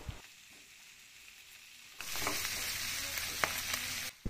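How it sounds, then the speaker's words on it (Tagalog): Ginger sizzles in a hot pan while being sautéed for laing with pork, first a quiet stretch, then a loud, steady frying hiss with occasional stirring clicks until it cuts off near the end. "Sunod ay igisa ang luya."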